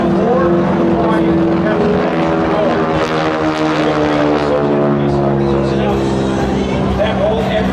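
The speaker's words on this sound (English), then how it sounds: "the rumble that you hear, that's a radial air-cooled engine. Pratt & Whitney built it at 600 horsepower" A 600-horsepower Pratt & Whitney radial air-cooled aircraft engine rumbles loud and steady overhead at a riverfront airshow, with a deep harmonic drone and someone talking over it.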